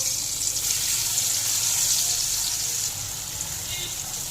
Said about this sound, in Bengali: তেল গরম হয়ে গেছে, ধোকাগুলোকে তেলের মধ্যে দিয়ে ভেজে নেব।